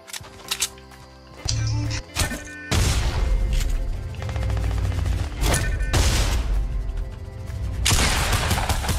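Gunfire in the Fortnite video game, a few separate sharp shots followed by dense bursts of rapid automatic fire and heavy booming reports, loud and nearly continuous throughout.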